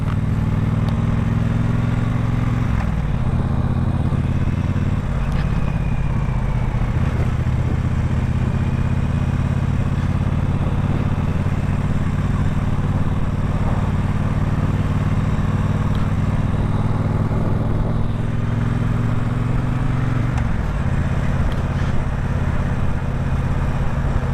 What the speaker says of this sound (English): It's a 2017 Triumph Bonneville Bobber